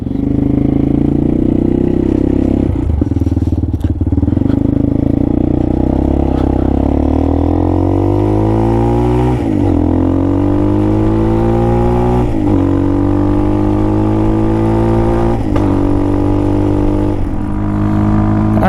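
A Hawk DLX 250 motorcycle with a new exhaust roars loudly and close throughout, the engine pitch climbing through repeated rising runs as it accelerates and shifts, with brief dips between gears.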